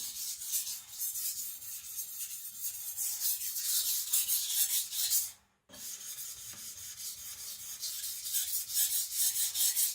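A Sakon Ryuga gyuto knife is sharpened on a Naniwa Professional whetstone in steady rhythmic strokes, a close scraping rasp that stops briefly midway and then starts again, with no talk.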